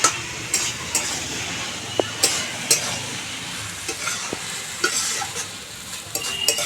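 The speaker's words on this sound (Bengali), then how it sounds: "দিয়ে দিচ্ছি ভেজে রাখা ডিম। একটু ভালো করে নেড়ে চেড়ে দেবো।" A spoon stirring papaya curry with fried eggs in a sizzling pot, repeated scraping strokes over a steady close frying hiss, with light clinks of utensil against metal.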